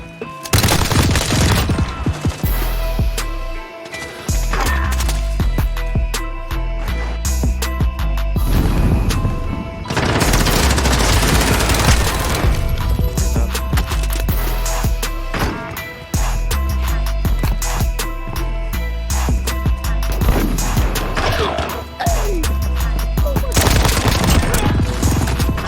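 Sustained automatic gunfire and bursts of shots in the Warzone video game, loud and dense throughout with brief gaps, mixed with impacts and occasional player voices over it.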